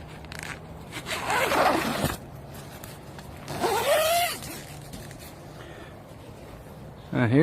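Zipper on the door of a large CORE nine-person extended dome tent, pulled in two or three separate rasping runs close by, with quiet pauses and a voice faintly present.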